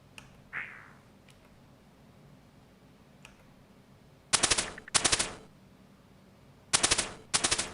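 Gunfire in Old School Runescape arrives as two pairs of sharp, loud rapid-fire bursts, separated by a quiet stretch with a few faint clicks and a short whistle-like sound.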